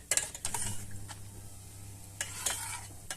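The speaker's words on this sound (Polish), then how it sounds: "I delikatnie, delikatnie mieszamy." A spoon scrapes and taps around a pot of mulled beer warming with honey, making intermittent bright clinks and scrapes over a steady low hum, close by and with no voices.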